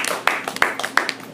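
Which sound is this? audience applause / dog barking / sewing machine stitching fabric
audience applause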